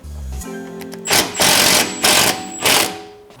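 A power tool tightens bolts on a Dodge Durango suspension during an air ride kit install, firing in four loud, close bursts of buzzing rattle with short pauses between them.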